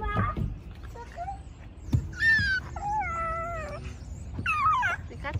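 A cat meows several times in drawn-out, wavering cries at close range, with a child and an adult talking quietly around it outdoors.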